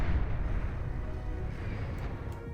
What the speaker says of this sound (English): this warboat can fire away those long-range, high-arcing splitter missiles